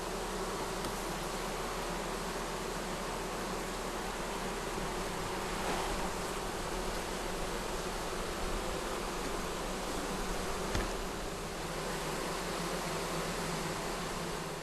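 Honeybee colonies humming inside identical hive bodies, a dense, continuous buzz of many bees heard up close at an even level, with no voices.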